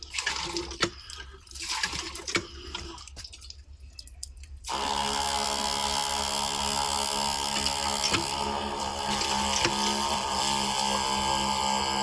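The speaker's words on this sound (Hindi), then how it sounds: "किस प्रकार से हमारा जो मोटर चलने लगा और कैसा पानी दे रहा है" A 775 DC motor water pump fitted to a hand pump starts running and pumping water: scattered drips at first, then a sudden jump into a loud, steady rush of flowing water that holds to the end.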